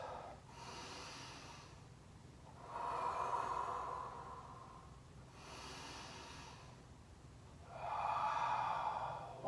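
Slow, deep breaths during a balance and abdominal exercise routine: long airy inhales and exhales alternating in a steady rhythm, close and moderately soft, with no talking.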